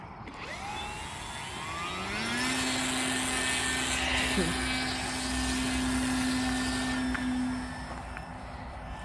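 The electric motor of an Eclipse model aircraft throttles up before its maiden flight, a rising whine that settles into a steady high buzzing hum, close and continuous for several seconds.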